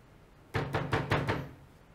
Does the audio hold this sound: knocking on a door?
yes